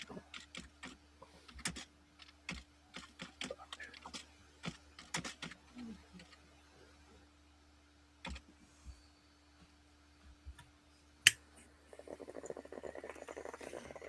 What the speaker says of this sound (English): Who do I hear feverishly clicking on a keyboard?